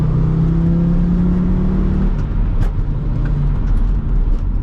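Audi RS engine-swapped VW Caddy, front-wheel drive, pulling through its gears from inside the cabin: a loud droning engine note that climbs, then drops at a shift midway, steady and close.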